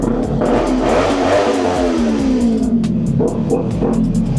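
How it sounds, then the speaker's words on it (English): Kawasaki Ninja 400 motorcycle with an aftermarket Leo Vince exhaust, revved several times close up, the engine note rising and falling in loud, sharp bursts with no talking over it. "It does have a Leo Vent exhaust on it, which is aftermarket. Kind of hear how it sounds."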